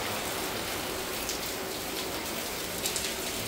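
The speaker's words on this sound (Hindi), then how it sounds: "बारिश आई" Steady rainfall, a dense continuous hiss of drops pattering on surfaces at an even, fairly close level throughout, with no voices.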